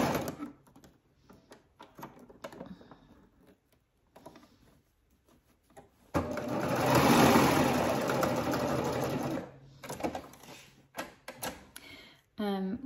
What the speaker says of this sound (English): I lifted up my presser foot and turned all my fabric to the back so that I can serge off and leave a little tail.